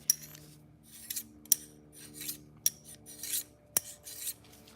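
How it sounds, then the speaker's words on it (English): A scissor blade is drawn across a pink sharpening stone, making short, quiet scraping and rasping strokes with crisp metallic ticks, close up and with no talk. "I have my pink stone here. All I'm doing is moving like the burr back over"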